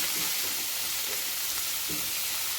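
Safflower leaf greens sauté in hot oil with garlic, a steady broadband sizzle running throughout with a few soft stirring scrapes, close and even, no voices.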